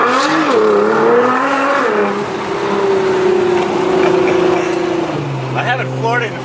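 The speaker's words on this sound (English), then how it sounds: "I haven't floored it in first gear like that in a long time." A sports car pulls away hard in first gear, its engine note climbing loudly and steadily before easing back, with a voice talking over it near the end.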